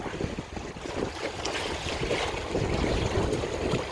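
A sailboat moves through Mediterranean water at about five knots in a light northeast breeze, with waves washing against the hull and wind buffeting the microphone in a steady, fairly faint wash.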